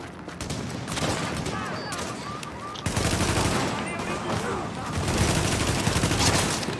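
Dense gunfire from pistols and shotguns in The Division, a co-op shooter video game, with rapid overlapping shots throughout and bursts growing heavier toward the end, mixed with game effects.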